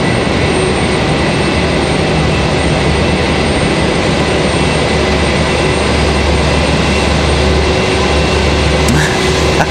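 Boeing 737-900 jet airliner at Raleigh-Durham airport in stormy weather, a loud continuous broadband roar with deep low rumble, sustained and steady throughout with no talk.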